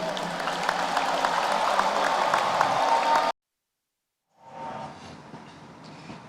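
Audience applause in a television talk show studio: loud, dense clapping for about three seconds that cuts off abruptly, followed by a pause and a quieter, thinner round of clapping.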